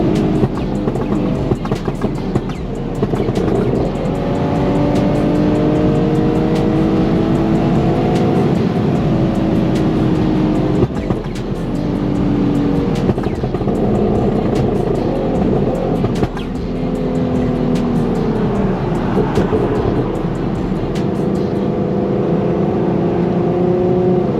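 An Infiniti Q50 3.7 accelerates hard in third gear to 7,000 RPM, its loud engine and exhaust heard from the cabin with rising harmonic sweeps, brief drops as the throttle is released, then renewed climbs.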